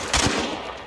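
A short, loud burst of gunfire in the video game Hunt: Showdown, a sharp crack followed by a brief rumbling tail in under a second.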